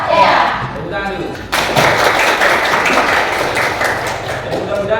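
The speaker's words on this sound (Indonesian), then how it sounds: "Tepuk tangan dulu." Children in a classroom break into clapping partway through, a loud, dense burst that keeps going to the end over a noisy room with voices.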